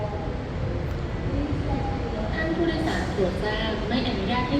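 SRT Red Line commuter train in Bangkok pulling into platform 1, a rolling rumble with faint rail squeals and rattles building steadily as it arrives.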